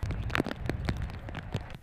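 Rain falling on a farm on an April day: a faint, soft patter of scattered drops with a few sharper ticks against a quiet background.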